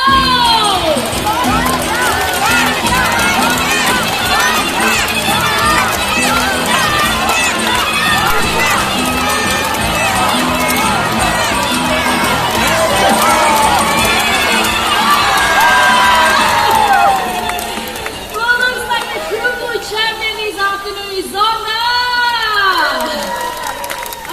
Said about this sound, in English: Barry supporters, you gotta cheer much louder